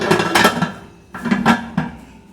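Pressure cooker lid being closed with no whistle fitted, two bursts of close metallic clanking and scraping separated by a short pause.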